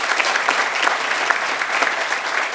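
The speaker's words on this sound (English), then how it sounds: "Can we give Junior Achievement a round of applause, please?" A room of guests at a Junior Achievement Finance Park grand opening gives a steady round of applause, dense and even clapping with no pauses throughout.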